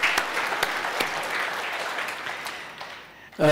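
A church congregation claps hands for a member's birthday during a service, a steady wash of applause that gradually thins and fades before a voice begins speaking right at the end.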